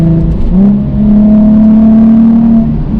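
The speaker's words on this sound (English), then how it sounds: "see right there, fourth gear acceleration" A Toyota A90 Supra accelerating hard in fourth gear, recorded from inside the car, a loud steady engine drone rising smoothly in pitch with no speech.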